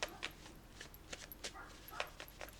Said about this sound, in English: There's a dog barking now.